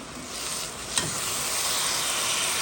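Cabbage being stirred in a hot frying pan, a steady close sizzle with a single scrape of the utensil near the start and no talking.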